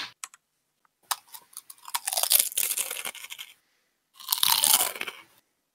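Chips crunched and chewed close to a microphone on a Discord call: a sharp bite, then several seconds of loud crunching, a pause, and another loud burst of chewing, with no talk.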